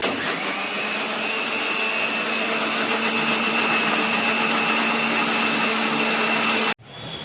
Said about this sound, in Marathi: तर मी हे आता मिक्सरला बारीक करून घेते